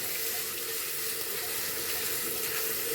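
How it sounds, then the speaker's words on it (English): Ginger garlic paste frying with onions in a pan, a steady, dense sizzle that stays even and close for the whole stretch, with no voices over it. "So I'm also going to fry them with the onions."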